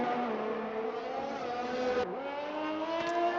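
A race car on a hot lap at the Canada round of a racing video game, its engine droning steadily at high revs with one sharp dip and recovery as it shifts or brakes, no voices.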